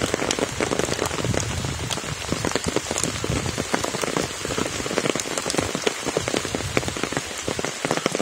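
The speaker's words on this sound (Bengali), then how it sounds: "ওরে বৃষ্টি, ওরে বৃষ্টি," Heavy rain pouring down outdoors, a dense, steady patter of drops striking surfaces close by, with no talk over it.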